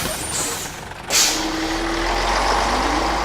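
A bus sounds a sharp air-brake hiss and then a steady low engine rumble that holds close and fairly loud.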